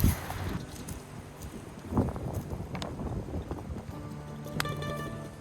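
Gusty wind blows across an outdoor garden beside a small DIY winter greenhouse, a broad steady rush with a few louder buffets against the microphone; no one talks.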